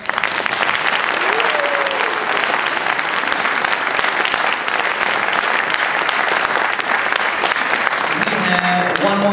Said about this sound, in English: Give those folks one round of applause.